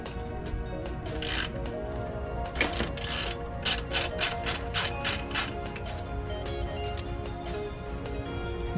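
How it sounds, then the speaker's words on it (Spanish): A socket ratchet clicks in quick rapid bursts while loosening a bicycle crank bolt on a Leader 725 bike, close and crisp, the pawl ticking over a low background. "Vamos a repetir los mismos pasos usando el dado para retirar este tornillo primero."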